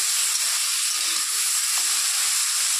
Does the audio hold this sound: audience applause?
no